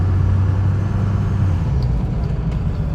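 A 6.0 truck engine fitted with a new cold air intake rumbles steadily on a test drive, a loud, continuous low drone with no talking.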